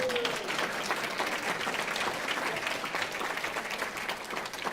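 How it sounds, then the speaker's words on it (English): Congregation applause fills a church service, a dense, steady wash of many hands clapping at close range for the whole stretch, with a faint voice briefly audible near the start. "You can clap at that."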